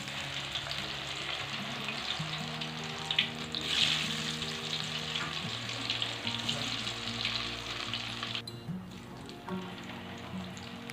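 Thin-sliced cassava chips deep frying in hot oil at home, giving a dense, even bubbling sizzle at moderate level with a few sharper crackles and a brief clatter near the end.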